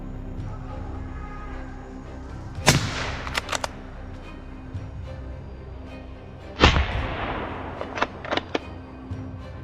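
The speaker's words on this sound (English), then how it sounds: "A clean shot rang out." Rifle shots during a wild boar hunt in an open field: two sharp, loud cracks about four seconds apart, each followed by a quick cluster of smaller snaps and echoes over quiet outdoor ambience.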